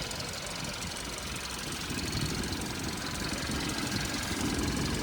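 A Kia Soul's 1.6-litre engine idles steadily with a low, continuous rumble and faint knocking, holding an even level throughout with no voices.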